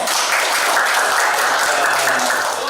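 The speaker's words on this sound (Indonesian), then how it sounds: "Tepuk tangan dong." An audience at a training session breaks into dense, steady applause, loud and close, with no talk over it.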